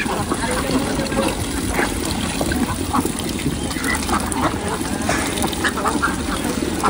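Ducks quacking near the water where they are fed daily, several scattered calls over a trickling, splashing background, with a person talking throughout.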